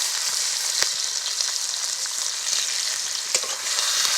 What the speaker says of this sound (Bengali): তেলের মধ্যে 1 চামচ 5 ফোড়ন দিয়ে দিলাম। আর দেবো পেঁয়াজ কুচি, তো কাঁচা লঙ্কা কুচিগুলোকেও দিয়ে দিয়েছি।